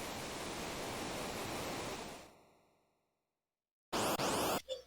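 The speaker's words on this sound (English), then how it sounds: "Nothing worse than falling down a waterfall and seeing piranhas chasing you." A steady, loud rush of falling water from a waterfall in the Final Fantasy VI video game fades away into silence. A sudden burst of bright, noisy game sound follows near the end.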